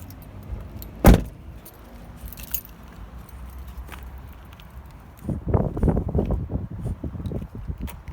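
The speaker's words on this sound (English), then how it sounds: "Better get the keys actually and undo these things." Keys jangle near a side underskirt locker on a 2015 Auto-Sleepers Nuevo motorhome: one sharp metallic chink early, then a busy run of rattling and clicking handling sounds in the second half.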